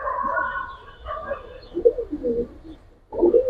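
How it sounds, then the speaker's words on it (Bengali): Silver military jabra pigeons coo in soft, low bursts close by, with a pause before a final louder burst near the end. "তারপর দেখেন কত সুন্দর কবুতর"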